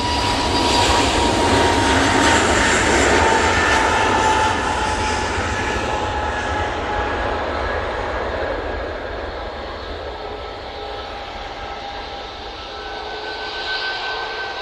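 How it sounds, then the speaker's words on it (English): A Ryanair Boeing 737 MAX 8 on final approach into Manchester Airport, arriving from Rome: a loud, steady jet roar with a whining engine tone that slowly fades as the aircraft passes, no voices. "On final now, we do have the Ryanair coming in from Rome. They're using the 737 MAX 8 for this flight."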